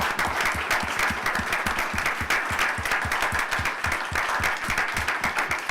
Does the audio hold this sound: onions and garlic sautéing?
no